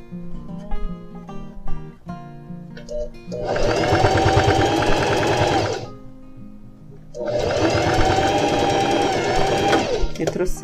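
A sewing machine stitches the side seam of jeans in two long, loud bursts of rapid motor whirring, separated by quieter pauses in which a person speaks.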